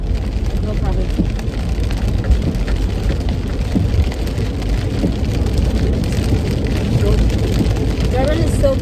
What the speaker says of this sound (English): Durban is so beautiful, yet it's raining.